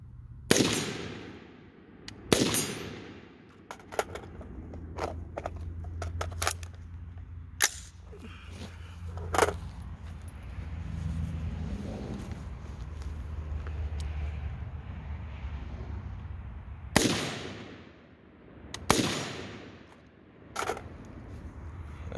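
Rifle shots from a low round count practice session ring out as a handful of sharp, fairly loud reports at irregular intervals, with quieter clicks and handling noises between them and no talking.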